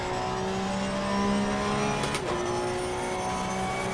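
A German GT race car in Assetto Corsa Competizione drives with a loud, steady engine drone and layered harmonic whine, with a brief sharp transient midway, and no talking.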